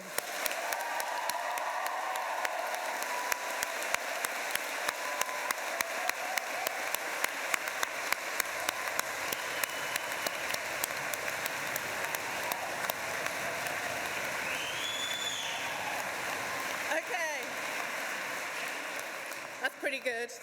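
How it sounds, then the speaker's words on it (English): A graduation ceremony audience in a chapel gives themselves a long round of applause, a dense, steady roar of clapping with crisp individual claps throughout, loud and sustained, with faint voices near the end. "let's start by giving yourselves a round of applause and let's see if we can do better than midwifery"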